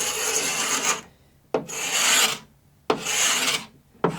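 Long rasping strokes of sanding across a stained wooden tabletop, three sustained passes broken by short pauses, close and loud with no voices.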